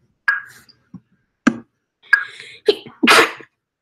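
A person sneezes sharply during a chess lesson, a short burst near the end preceded by a few small sniffs and breaths in a quiet room.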